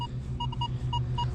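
A Minelab X-Terra Pro metal detector with a V8X coil sounds a target tone: a handful of short, clear electronic beeps in quick succession over a low steady hum, close and fairly loud.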